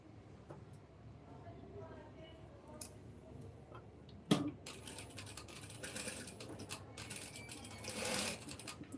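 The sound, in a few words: sewing machine stitching a blouse sleeve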